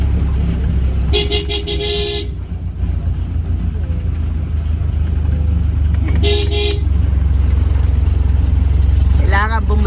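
Two long car horn blasts sound a few seconds apart over a constant engine drone on a narrow rural road in Batangas, followed by a quick warbling toot near the end.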